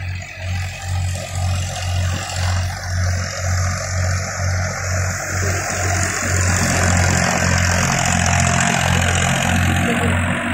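A Farmtrac 45 tractor engine drives a thresher under load, with a loud low thumping pulse and the steady rushing whir of the machine, continuous and close with no talk.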